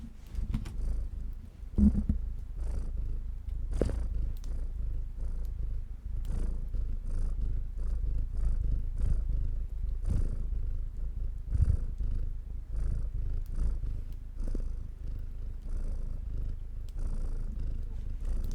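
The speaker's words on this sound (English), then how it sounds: "He's purring." A cat purrs steadily and close up, a continuous low rhythmic rumble running throughout, with faint occasional knocks in the background.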